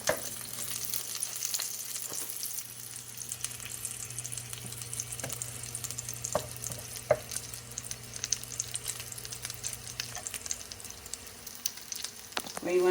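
Breadcrumb-coated fish frying in a pan, a quiet steady sizzle running throughout, with a faint low hum and occasional soft clicks, no one talking.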